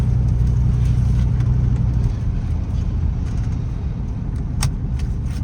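Engine of a 1989 Chevrolet Blazer K5 heard from inside the cab, a steady low rumble with a brief lift in the first two seconds, then settling to an even idle drone.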